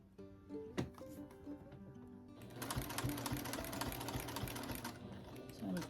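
A sewing machine stitches a seam on a rag quilt, its motor whirring with a rapid mechanical needle clatter that starts lighter and becomes a loud, steady run, close up with no talking.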